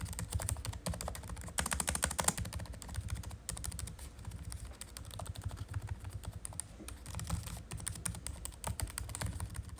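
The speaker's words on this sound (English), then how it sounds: "I like the key travel and sound when typing." Steady, rapid typing on a Dell Inspiron 16 2-in-1 laptop keyboard, with clicky keystrokes tapping continuously and close by, no voices.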